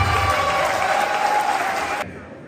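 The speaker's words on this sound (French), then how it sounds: "applaudissez-vous encore fortement aujourd'hui" A conference audience in Paris at a Kemi Séba event bursts into strong applause, a loud continuous wash of many hands with crowd noise that cuts off abruptly near the end, leaving a quiet room.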